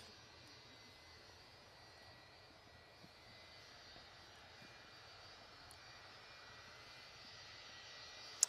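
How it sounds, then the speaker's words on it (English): An Airbus A350-900 on approach to Manchester Airport makes a steady, faint jet-engine drone that grows slowly louder as the aircraft nears. "So A350 900 coming in for Singapore."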